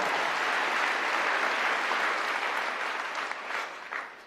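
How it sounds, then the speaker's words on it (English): An audience at AmFest, Turning Point USA's event in Phoenix, bursts into sustained applause that stays dense and steady, then thins and trails off with scattered claps near the end. "you can clap"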